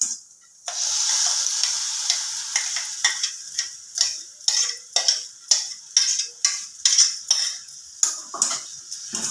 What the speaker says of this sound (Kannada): ಈರುಳ್ಳಿ ಫ್ರೈ ಆದ ನಂತರ ರುಬ್ಬಿದ ಚಟ್ನಿಯನ್ನು ಇದಕ್ಕೆ ಮಿಕ್ಸ್ ಮಾಡಿ.